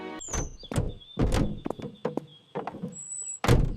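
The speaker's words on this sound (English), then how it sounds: "The door is closing." A door thuds and slides shut amid a series of bangs and clunks, with squeaky high tones between the impacts.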